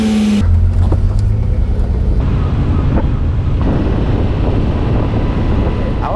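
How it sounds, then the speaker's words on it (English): Ferrari 512M driving on the road, a loud steady roar of engine and road noise with heavy wind buffeting throughout, continuous from start to finish. "On the road in the Ferrari 512M"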